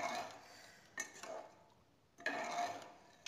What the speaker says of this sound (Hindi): उसके बाद इसे अच्छी तरह हम चलाएंगे।